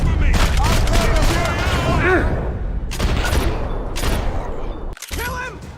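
Gunfire in the video game Max Payne 3 comes as dense bursts of rapid shots, loud and close, in several volleys separated by short gaps, with voices talking amid the firing.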